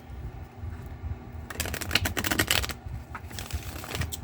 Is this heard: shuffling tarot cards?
yes